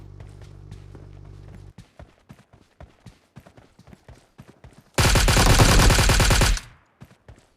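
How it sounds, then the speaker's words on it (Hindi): Rapid bursts of automatic rifle fire in a battle royale shooter game, with sparse single shots and footstep-like taps, then one loud sustained burst of continuous fire lasting a second and a half. "अब मेरे पर फायर आता है"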